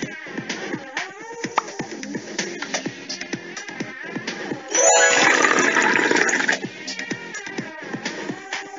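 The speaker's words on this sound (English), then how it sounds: "Now add some water to the bowl." Water poured into a glass bowl, a brief rushing, splashing pour in the middle, loud and close, between quieter knocks and handling noises.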